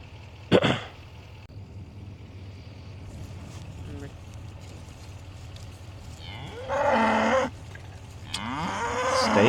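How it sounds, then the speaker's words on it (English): Cattle on a farm pasture, a cow letting out a short moo early on and then two longer, louder moos near the end, heard outdoors over low wind noise and distant ambient sound. "Look at that cow."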